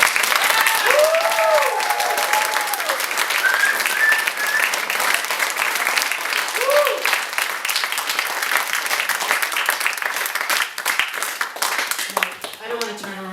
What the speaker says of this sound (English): So I figure if we can clap for Tinkerbell, we can clap for Bob.